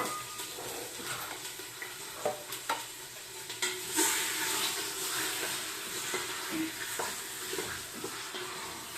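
Chicken frying in a pan, with a broadband sizzle and hiss running throughout and several sharp clicks and spatters from stirring utensils; no one speaks.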